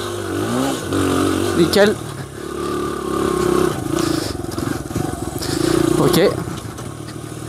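A 2001 Honda XR100R dirt bike engine revving while being ridden, its pitch climbing and falling in repeated throttle bursts, close and loud, with a rider's brief speech in between.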